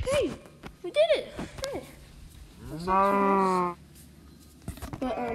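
Cows mooing in Minecraft, one long drawn-out moo in the middle with a few shorter calls around it, mixed with a person talking over them.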